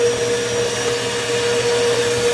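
A Bissell Powerforce bagless vacuum cleaner runs close and loud with a steady whining drone throughout, no voices.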